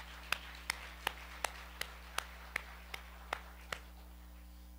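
Faint, evenly spaced claps from a church congregation, about three per second in a steady rhythm, under a constant low electrical hum in a quiet hall.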